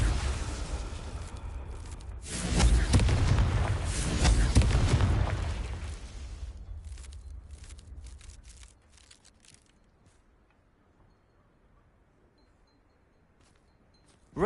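A Confringo blasting spell in Hogwarts Legacy setting off a loud booming explosion that swells for several seconds, then crackles and rumbles away into near silence, with scattered small pops trailing off.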